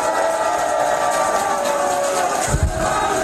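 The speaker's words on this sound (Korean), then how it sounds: "응원의 박수 한번 부탁드립니다." A crowd at an outdoor political campaign rally for a local election candidate gives a sustained roar of applause and cheering, dense and loud throughout, with a brief dip near the end.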